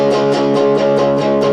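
Rhythmic muted guitar strumming with the fretting hand lightly resting on the strings, giving percussive chucks over a ringing chord, steady and close.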